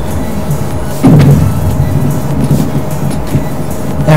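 An enemy vehicle rolling up in Call of Duty Black Ops 3, a steady engine rumble with a louder surge partway through, close and continuous.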